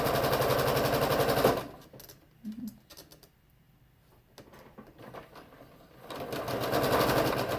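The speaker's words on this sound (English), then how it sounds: "we'll start and quickly stitch down through there." A sewing machine stitches the seams of a log cabin quilt block in a rapid, near buzzing run, stops for a quiet pause with small handling sounds, then starts stitching again.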